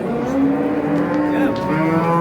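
Cattle moo steadily at a crowded livestock market in Spitamen, long sustained lowing calls overlapping amid a busy background murmur, close and loud throughout.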